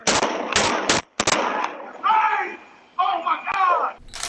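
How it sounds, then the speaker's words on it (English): A security camera recording catches several sharp, loud gunshots in quick succession, followed by people screaming in high, wavering cries, with more bangs mixed among the screams. "the device records the sound of gunshots and people screaming"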